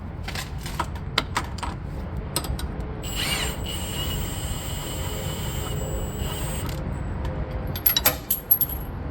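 A ratchet works a stuck nut on the rear torque rod of a Volvo semi truck, with rapid clicking bursts and mechanical rattles close by, a steadier grinding stretch in the middle, and no talk.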